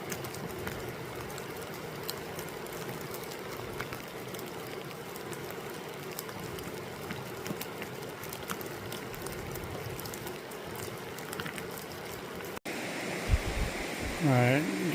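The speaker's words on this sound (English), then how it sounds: "And you still see that waterfall" A waterfall on a scenic mountain stroll gives a steady, broad rushing hiss that holds for most of the stretch, then cuts off abruptly near the end as brief faint sounds follow.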